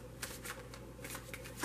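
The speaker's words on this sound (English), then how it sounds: "I have pre-shuffled, so I'm only going to shuffle these for a moment." Tarot cards shuffled briefly by hand, giving a quick run of soft papery riffles and flutters, fairly quiet and close, with no talking.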